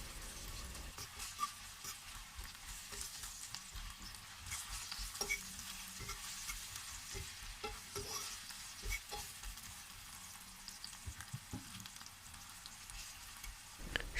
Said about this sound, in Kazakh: Бөлек табаға майды құйып, осылай пияз бен сәбізді қуырып аламыз.